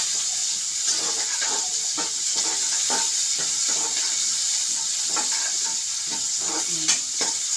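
A tempering for pesarattu fries in hot oil with a constant bright sizzle, while a spoon stirs with repeated soft scrapes across the pan.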